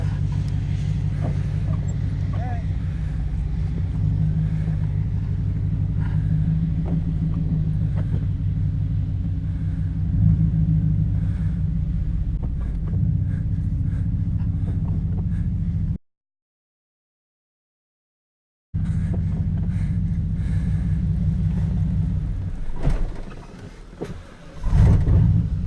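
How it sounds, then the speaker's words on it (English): Steady low engine rumble from a truck pushing a Subaru car into a shop, loud and continuous with a brief cut of silence midway, then rougher shifting noise near the end. "we're out here pushing the Subaru in the shop with the truck"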